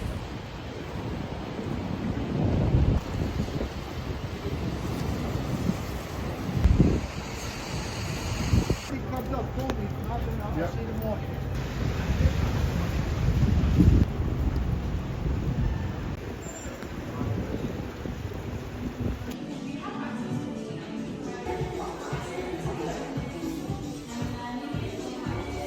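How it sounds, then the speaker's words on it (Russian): Snowstorm wind roars steadily along a New York street, a loud broadband rush with gusty swells and rumbling buffets, while a voice talks faintly underneath. "Еле выжил этот шторм."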